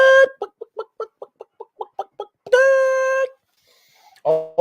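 A hen that has just laid an egg clucks in a quick run of short, sharp clucks, then gives a drawn-out squawking cackle and a final loud cluck, all close and clear.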